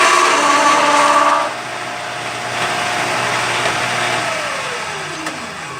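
A motorized case trimmer cuts a used 9x18 Makarov brass case, a loud grinding whine at first that drops to a lower, steadier motor hum as the cut finishes.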